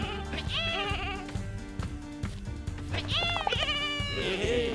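Sheep in the video game Lumberhill bleat repeatedly, several wavering cries near and mid-distance over busy game sounds and music, with voices talking in the background.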